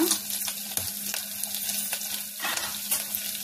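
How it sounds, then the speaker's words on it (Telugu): A sprig of curry leaves and crushed black pepper sizzle in a hot tempering for katte pongali, making a steady hiss with a few stirring scrapes and light clinks. There is no talk over the sizzle. "అది వేగాక ఇప్పుడు ఒక రెమ్మ కరివేపాకు వేసుకున్నా, అలాగే దంచి పెట్టుకున్న మిరియాలు వేసుకున్నా"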